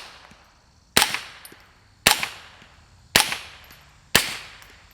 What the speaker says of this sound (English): Now we got the Atom Lite on the end. Put a few rounds down range.